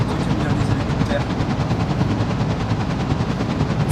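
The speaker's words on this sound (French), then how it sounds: "toi qui aimes bien les hélicoptères" A helicopter heard close and loud, a steady rapid rotor chop with dense pulsing thuds running throughout.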